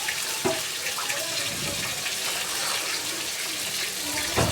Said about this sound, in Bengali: এবার আমি পরিমাণ মতো জল অ্যাড করে দেব